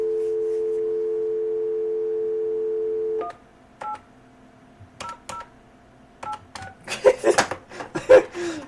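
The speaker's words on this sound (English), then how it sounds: "Wait, where's the dial tone?" An old desktop PC's telephone modem line gives a steady dial tone for about three seconds, which stops and gives way to a series of separate touch-tone dialing beeps that grow busier and louder toward the end.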